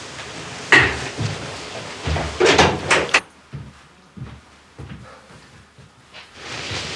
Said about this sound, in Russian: Подожди, надо дверь закрыть.